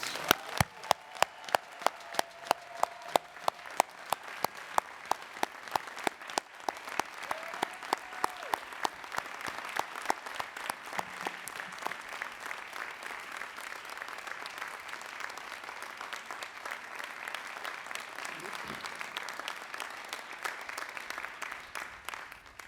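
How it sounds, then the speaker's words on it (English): Audience applause for graduates at the Dartmouth Guarini School of Graduate and Advanced Studies investiture, a sustained roomful of clapping with distinct sharp claps near at first, then blending into a dense steady wash that continues throughout. "Let's have a round of applause for all of our graduates"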